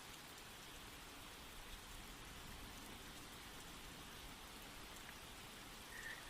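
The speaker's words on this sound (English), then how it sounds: "We have our little rainstorm coming out by me" A rainstorm falls outside, a soft even hiss of rain heard faintly and continuously from a distance, with no voices.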